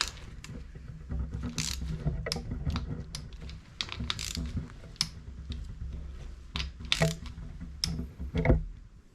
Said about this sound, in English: Now just to torque it up.